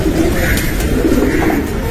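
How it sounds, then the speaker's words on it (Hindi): Pigeons coo in low, throaty burbling calls at a rooftop pigeon loft in Lahore, close and continuous, overlapping one another with no voices. "ये देखिए, ये कबूतर बैठा है"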